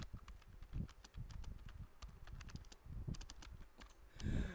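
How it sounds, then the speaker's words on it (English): Steady touch-typing on a computer keyboard, a dense run of quick, light key clicks with uneven rhythm and occasional heavier thumps, close and fairly quiet with no voices. "This guy really record himself typing for 2 hours."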